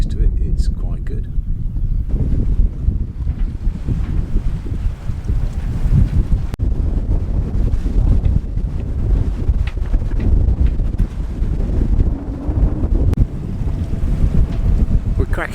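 Lagoon 380 catamaran under sail at about five to six knots, with steady wind buffeting the microphone and a continuous rush of water along the hulls, loud and unbroken throughout.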